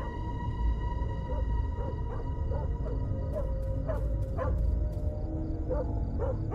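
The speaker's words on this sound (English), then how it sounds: "He's barking." A dog in the video game Fears to Fathom barks in short repeated bursts over a steady droning hum and background noise, moderately near.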